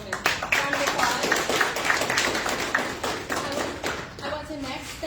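A small audience at a university career panel gives a round of applause, with scattered, uneven claps and hand taps close by, a few voices mixed in near the end.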